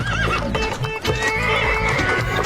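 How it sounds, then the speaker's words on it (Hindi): A horse pulling a cart gallops with rapid clip-clop hoofbeats and lets out a loud neigh at the start, close and busy over background music with no speech. "घोड़ा भागने लगा तो गेंदा डर गया।"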